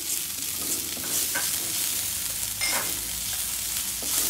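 Chopped green chillies fry in a pan with ginger garlic paste, a close, continuous sizzle broken by brief bursts of stirring, with no voices.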